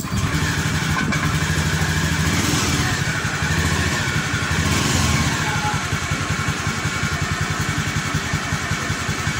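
A Honda Beat FI scooter engine starts and settles into a steady, loud, close idle that runs without pause, the scooter having a fault that makes it stall often.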